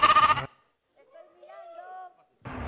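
A goat's bleat is played back in a TV game-show guessing game: a short, faint, wavering call sits between bursts of people talking before and after it.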